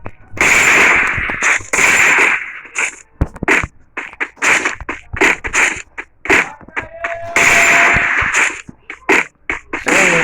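Gunfire in the Free Fire mobile battle game, with repeated sharp shots in bursts, some rapid strings and some spaced single cracks, loud and close with brief gaps between volleys.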